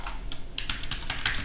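Typing on a computer keyboard at a Linux terminal, a quick run of crisp, irregular key clicks close up over a low steady hum.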